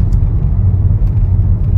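A car on a test drive after a stop at a traffic light, its steady low engine and road rumble filling the cabin, continuous and close with no talk.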